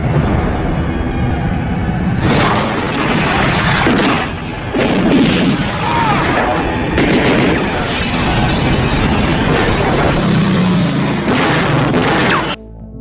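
A fierce film gunfight erupts as a gang storms a motel room, with dense, loud overlapping bursts and booms pounding almost without pause, then cutting off abruptly near the end.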